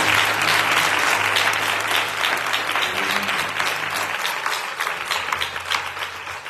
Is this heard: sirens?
no